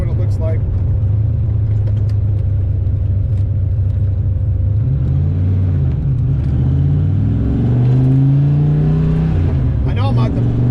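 A Ford Foxbody Mustang accelerates hard through the gears, its loud, close engine note climbing in pitch with a deep rumble beneath.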